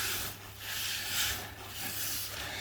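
A cloth rubs and wipes spilled oil off a Kubota B3150 tractor, giving short close scrubbing swishes in uneven strokes.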